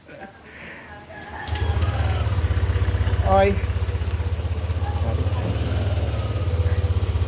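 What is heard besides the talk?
Yamaha Aerox V2 scooter engine running after camshaft bearing replacement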